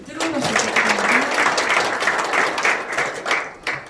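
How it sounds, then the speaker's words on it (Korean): Audience applause for Korea Western Power executives being introduced at a Gumi investment MOU signing ceremony, a steady wash of clapping throughout with a voice speaking over the start. "뜨거운 박수 부탁드립니다."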